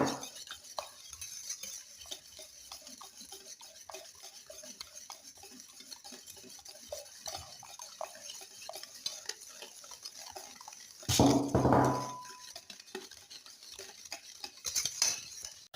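Lemon cake batter with sugar, grated lemon zest and oil is mixed in a bowl: rhythmic soft clinks and scrapes of a utensil against the bowl, with a louder clattering burst near the end.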